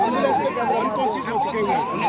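Ambulance siren at a street protest, loud and close, wailing up and down in a steady repeating cycle while people talk over it.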